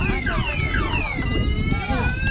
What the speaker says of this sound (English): And there goes the alarms.